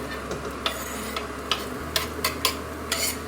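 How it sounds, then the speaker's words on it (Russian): Chopped onions sizzle steadily in heated oil in a pan for a beef goulash, with a soft frying hiss and a series of sharp scraping clicks as they are stirred. "Лук порезали, масло подогрелось. И давайте начнем жарить."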